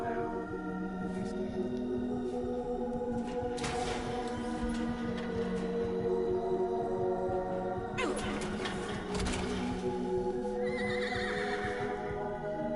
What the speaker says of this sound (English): And we got our stupid neighing back.